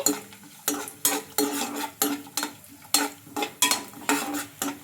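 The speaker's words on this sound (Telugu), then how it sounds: "ఇవి మనకు గోల్డెన్ కలర్ వచ్చే వరకు అయితే బాగా ఫ్రై చేసుకోవాలి." Raisins frying and being stirred in a kadai, a bright sizzle broken by a steady rhythm of loud close scrapes from the spoon, about two strokes a second, with no talk.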